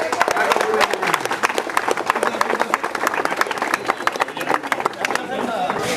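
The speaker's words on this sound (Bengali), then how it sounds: "আপনাদের কাছে আবেদন করতালি দিয়ে" A crowd claps steadily at the ribbon-cutting inauguration of a neighbourhood water pump, dense continuous applause close at hand with voices mixed in.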